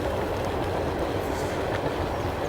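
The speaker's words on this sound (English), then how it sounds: "That'd be pretty cool to get a video of a train up close" A train rolls past close to the Erie Canal path, a loud, steady rumble and rattle of wheels on rails that holds level throughout with no voices.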